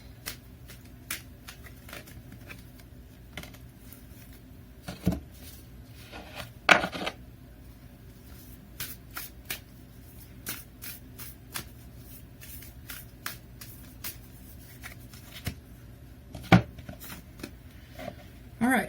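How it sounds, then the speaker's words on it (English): Oracle cards are shuffled by hand in quiet, intermittent bursts of soft riffling and slapping, with brief louder flicks scattered through. "Let's close it off with 2 oracle cards."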